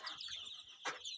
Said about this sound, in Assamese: মোৰ সোণালী মুৰ্গী ইয়াতে আছে, 120টামান আছে ইয়াতে